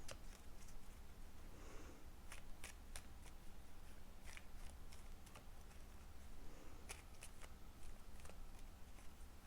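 Oracle cards are shuffled quietly by hand in a calm room, soft repeated papery riffles and flicks coming in short clusters, faint and close with brief pauses between.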